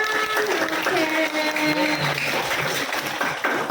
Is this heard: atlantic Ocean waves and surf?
no